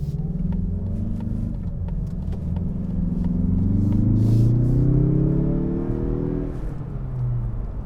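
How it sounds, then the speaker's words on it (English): A 2021 Mazda 3 Turbo sedan's turbocharged engine accelerates on the road, a loud steady drone with rising pitch as the revs climb, heard from inside the car with no talk. "Damn, that turbo engine is pretty impressive."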